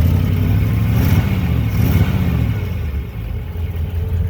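A 1956 Chevrolet Bel Air two-door hardtop with a non-stock dual exhaust, its engine revving loudly and steadily with a deep rumbling tone and slight swells, close by with no talking.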